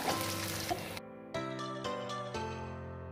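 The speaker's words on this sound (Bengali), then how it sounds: "আমি তেলের মধ্যে পাঁচফোড়ন দিয়ে দিচ্ছি, একটা চামচ, দুটো শুকনো লঙ্কা এবং একটি তেজপাতা দিয়ে দিলাম।" Panch phoron whole spices, two dried red chillies and a bay leaf dropped into hot oil, giving a loud, steady sizzle that briefly quiets, then flares again in several bursts.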